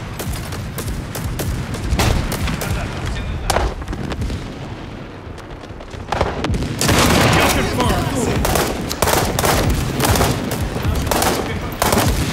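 Dense, continuous gunfire in a shooter video game, with rapid automatic bursts and heavy booms mixed throughout; a voice speaks briefly underneath.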